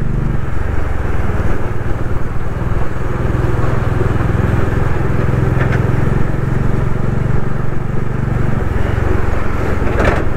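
A motorcycle engine drones steadily and loudly throughout a ride on a winding mountain road in Sikkim, with constant low rumble and wind buffeting, no break in the sound.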